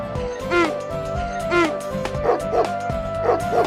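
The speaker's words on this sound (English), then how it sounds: "the dog barked" Several dog barks and yips repeat in an uneven rhythm over steady background music, close and fairly loud.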